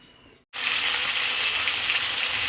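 Pangas fish pieces dropped into hot oil, a quiet moment then a sudden burst of loud, dense, close sizzling that holds steady to the end, with no voices.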